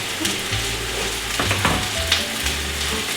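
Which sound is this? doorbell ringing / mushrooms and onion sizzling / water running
mushrooms and onion sizzling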